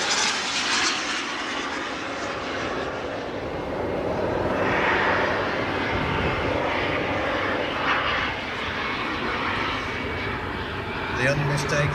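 Avro Valiant V-bomber jet making a pass at an airshow, a broad, steady jet roar filling the whole clip with a slight swell mid-pass, while a commentator's voice carries over it.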